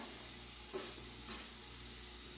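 Onion, garlic and sun-dried tomatoes sizzling in hot oil, heard as a quiet, steady hiss throughout, with faint bursts of crackle now and then.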